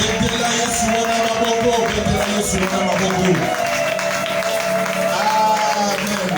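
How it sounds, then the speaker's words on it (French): A church congregation loudly acclaims Jesus with sustained clapping, cheering and shouting voices that fill the room, steady and dense throughout over a backdrop of music. "Voyons cette grâce acclamez fortement Jésus"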